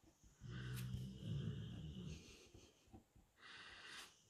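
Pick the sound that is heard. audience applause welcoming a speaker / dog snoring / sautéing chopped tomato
dog snoring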